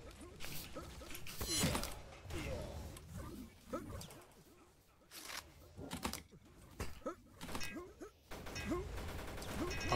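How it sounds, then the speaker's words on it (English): Rapid bursts of automatic machine gun fire in the arena shooter Warfork crackle in quick repeated volleys amid other game effects, fairly quiet overall. "that's the machine gun"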